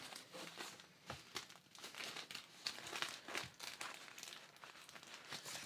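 Embroidery stabilizer being torn away from polar fleece, a steady run of close, crisp crinkling and ripping bursts with no talk over it.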